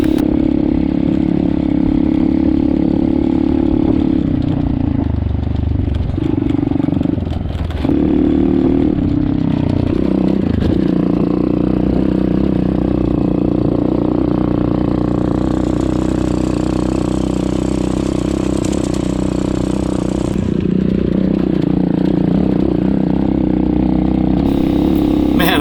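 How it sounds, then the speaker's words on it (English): An X-pro Storm 150 DLX motorcycle engine drones steadily and close as the bike climbs a power line road into a mountain valley, with the revs dipping briefly in a few places. "Exploring on this bike. It's just so easy to ride."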